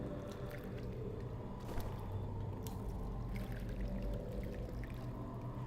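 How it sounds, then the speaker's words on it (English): Water in F.E.A.R. gurgles and pours continuously at moderate volume, a steady murky sloshing wash with occasional small splashes and no talking. "Okay, so that's actual water."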